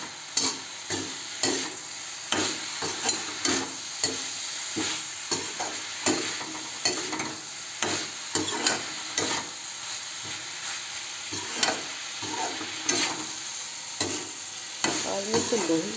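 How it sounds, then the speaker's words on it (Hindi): Vegetables frying and being stirred in an iron kadhai, with a steady sizzle broken by repeated scraping strokes of a spoon at an uneven rhythm, heard up close with no talking. "मैं इसे लोहे की कढ़ाई में बना रही हूँ जिससे कि ये जल्दी बन जाएगी और थोड़ी सी क्रिस्पी भी रहेगी"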